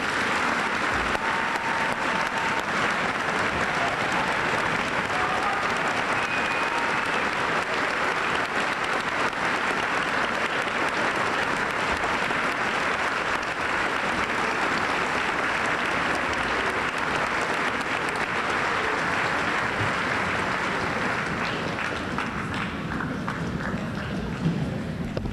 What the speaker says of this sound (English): giving them a warm round of applause.